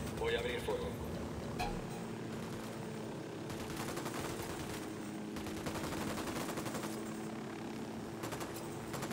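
Ghost Recon Wildlands gunfire: scattered shots and short automatic bursts over a continuous engine drone, with a player talking throughout.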